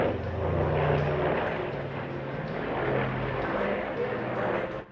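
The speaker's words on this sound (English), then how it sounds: "it's not often that people do get to see the Tigercat at an air show" A Grumman F7F Tigercat twin-engine propeller fighter flies past at an air show, its steady engine drone and prop roar filling the air at moderate distance, with no break in the sound.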